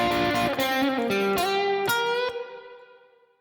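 A short electric guitar blues lick that moves between two blues scale positions, with a few quick picked and slid notes followed by a final note that rings out and fades.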